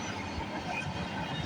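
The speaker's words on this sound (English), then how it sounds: "That's it. The train's ending" CN freight train rolling past Bronte Street in Milton on a rainy day, a steady broadband rumble of passing railcars with rain noise, continuous and fairly near with no talk.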